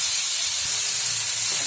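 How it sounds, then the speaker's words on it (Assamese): Chopped tomatoes fry in hot oil with ginger and garlic, giving a steady, close, even sizzling hiss with no talk over it. "এনেদৰে বিলাহীখিনি দি পেলাই মই 2-3 মিনিট সময় ভাজি ল'লোঁ"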